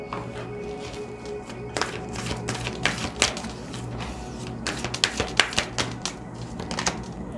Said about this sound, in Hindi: अब यहाँ पर मैं एडवाइस कार्ड निकाल लेती हूँ।